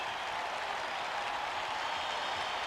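Steady broadband roar of a stadium crowd cheering at a Chiefs vs Raiders football game, a constant wash of voices and applause with no clear individual words.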